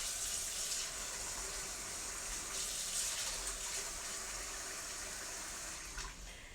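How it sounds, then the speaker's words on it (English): Tap water pours steadily into a bowl in a kitchen sink, a loud, even rushing splash close by that runs without a break and eases slightly at the end. "Okay, now I'm going to fill up the sink again with the bowl with more water."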